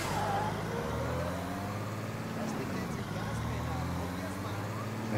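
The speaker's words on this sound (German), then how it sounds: "Ist aber nicht gerade so einfach, mit dem LKW durch die Gegend zu fahren" A truck in Mafia III rumbles along with a low, steady engine drone, partly masked under a talking voice.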